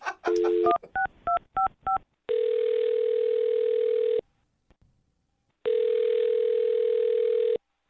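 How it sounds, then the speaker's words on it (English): A rapid string of touch-tone beeps as a number is dialed, followed by long, steady ringback tones separated by silence. "I'm going to dial his phone number right now"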